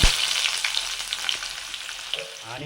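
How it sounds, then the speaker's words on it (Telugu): Curry leaves and onions hit hot oil in a pan while a chicken fry is being made, bursting into a loud, bright crackling sizzle that stays busy and close for the whole moment. "నూనె బాగా కాగిన తర్వాత మసాలాలు వేసుకోవాలి. నెక్స్ట్ కరివేపాకు, ఆనియన్"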